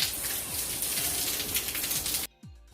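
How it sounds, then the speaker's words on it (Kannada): Heavy rain pours down steadily outdoors, a dense, loud, continuous hiss that cuts off abruptly near the end. "ಸಿಕ್ಕಾಪಟ್ಟೆ ಜೋರು ಮಳೆ ಬರ್ತಿದೆ"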